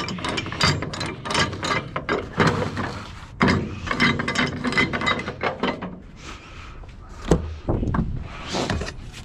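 A cargo securement strap is rolled back up by hand on a truck, with rapid ratcheting clicks and rubbing in close bursts that pause briefly and resume, with no talk.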